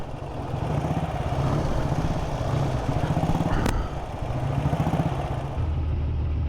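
A BSA A7 motorcycle with plunger rear suspension rides along, its engine a steady close drone with a low rumble throughout, briefly shifting in tone midway before settling again.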